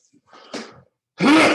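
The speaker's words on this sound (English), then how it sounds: "oh, I gotta sneeze" A single sneeze from a man partway through a trigonometry lesson, one loud, abrupt burst preceded by a short sharp intake of breath, close to the microphone with no talk over it.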